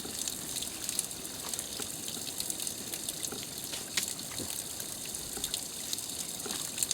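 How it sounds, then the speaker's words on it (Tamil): Water pouring steadily into potato bonda batter outdoors, a continuous close gushing trickle over faint background noise, with no talking. "අපි වතුර පොඩ්ඩක් එකතු කරගන්නවා."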